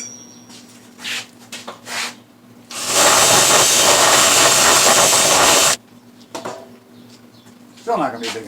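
A round hand file rasps inside a drilled circular hole in a piece of scrap wood, a dense steady burst of filing lasting about three seconds, close and fairly loud, with quieter handling noises before and after.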